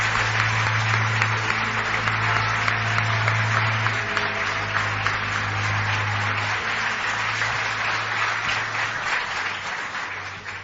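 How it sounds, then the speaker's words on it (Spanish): Loud, sustained applause from a radio program's live audience, dense steady clapping that fills the full ten seconds without pause. "Y pido un aplauso para Jesús, que ya se acerca por aquí."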